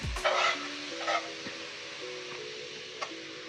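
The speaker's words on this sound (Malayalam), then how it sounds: "ഇതിൻ്റെ പച്ചമണം മാറുന്നത് വരെ ഒന്നുകൂടി ഒന്ന് വഴറ്റി കൊടുക്കണം" Onion with ginger-garlic paste sautéed in a pan for a chicken curry, a steady close sizzle with a couple of louder stirring scrapes near the start and a faint clink near the end, with no talk.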